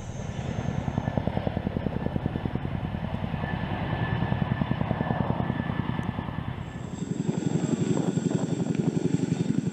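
A CH-47 Chinook tandem-rotor military helicopter flies overhead, its rotors beating in a fast, regular pulsing thump over engine whine, sustained and fairly loud with a slight swell toward the end.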